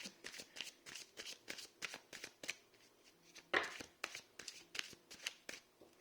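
Tarot cards being shuffled by hand: a rapid series of soft, crisp riffles and slaps, close and fairly quiet, with one louder flutter midway and no talk over it.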